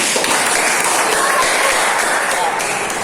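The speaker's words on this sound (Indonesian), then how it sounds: "Tepuk tangan dulu untuk kelas ini." A classroom of students applauds during a mathematics lesson, a dense, even patter of clapping running the whole time with some voices mixed in.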